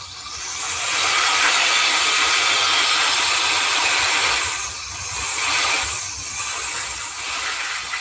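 Air blasting from a tool to clean out an old radio, a loud rushing hiss that swells in, holds steady, then pulses in a few shorter bursts toward the end.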